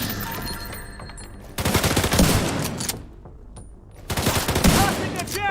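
Sustained bursts of rapid automatic gunfire in The Division 2 video game, two loud volleys separated by a brief lull, crackling and dense.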